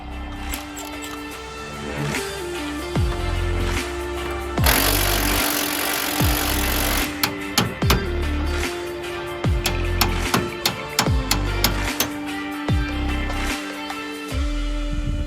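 A power tool runs in repeated whirring bursts while driving a bolt out of a third-generation Toyota 4Runner, with some pitch sweeps and clicks, close and fairly loud in a garage setting.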